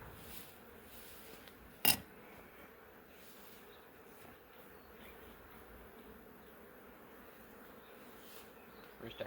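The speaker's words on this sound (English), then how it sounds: "Let me get the bees off here." Honey bees buzz steadily around a hive frame during a honey harvest, a soft continuous swarm drone with one brief sharp clack near the start and no voices.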